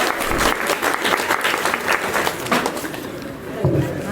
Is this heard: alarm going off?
no